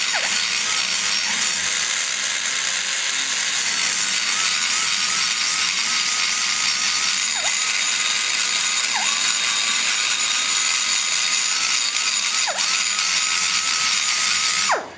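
High-speed power tool grinding into the aluminum of an Edelbrock E 200 intake port at the bowl-to-seat transition, a steady loud whine running throughout with brief dips in pitch as the cutter bites deeper, no talking.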